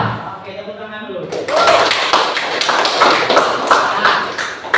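Students in an Indonesian classroom break into dense applause partway through, a loud, steady patter of many hands that follows a teacher's speech.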